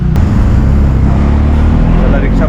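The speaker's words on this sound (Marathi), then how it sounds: "चला रिक्षा पकड्या दोन रिक्षा करावं आम्हाला" Auto rickshaw riding toward Panvel station, its engine droning loud and steady from inside the cabin with road rumble throughout, and a voice speaking briefly over it.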